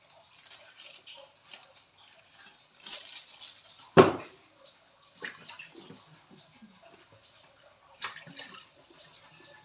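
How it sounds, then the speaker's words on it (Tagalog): Washing with a small amount of stored water during a morning routine: sparse splashes, trickles and light patter, close but faint, with one sharp louder splash midway and no talk. "Maghuhugas muna ako"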